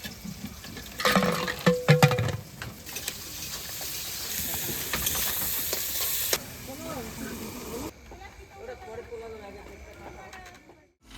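Fried potatoes tipped into a home cooking pot, a loud hissing sizzle with clattering stirring near at hand, fading to quieter bubbling, with someone talking over it.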